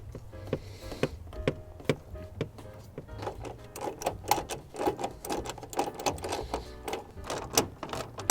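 Torx screws are driven in by hand to reattach the headlight cover on a BMW E53 X5, close clicking and ratcheting ticks in an uneven rhythm that grow busier partway through, with no talking.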